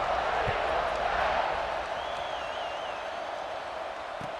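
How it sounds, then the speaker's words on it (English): A football stadium crowd roars steadily before a kickoff, a broad sustained wash of cheering that eases slightly toward the end, with a faint whistle partway through. "this crowd now ready to get behind them"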